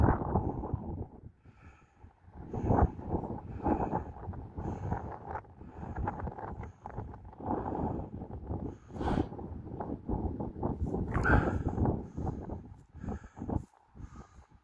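Strong wind buffeting a microphone on an open hilltop at Cley Hill near Warminster, a loud continuous low rumble with gusting surges throughout and no talk over it.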